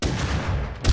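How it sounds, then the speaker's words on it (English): Loud, close gunshots in the video game Rust, a dense rumbling burst of fire with a sharp boom at the very end. "Why is he shooting me?!"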